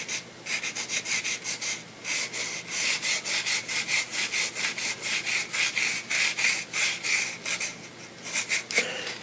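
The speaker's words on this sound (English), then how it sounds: "Maybe someone out there likes the sound of sanding." Hand sanding on a wooden biplane model, a close, rhythmic scratchy rubbing of quick back-and-forth strokes that continues steadily for about nine seconds, with no voices.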